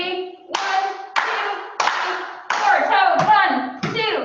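Children and adults clap hands in unison at a storytime dance session, a series of sharp, evenly spaced claps roughly every half second to second, close and loud, with no talk over them.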